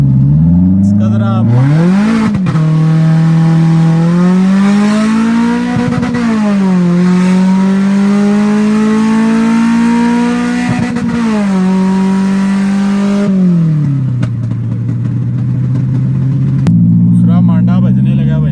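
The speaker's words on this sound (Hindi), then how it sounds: "इसके अंदर इंजन है 3SG।" A 3SG engine in the car Scarlett revving repeatedly, pitch climbing and falling in long sweeps, heard loud from inside the cabin with background chatter.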